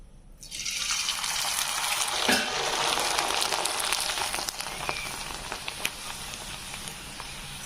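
Tomato appalam (vadagam) fries in hot oil, a dense, steady crackling sizzle close by that flares briefly and then settles into a softer bubbling hiss.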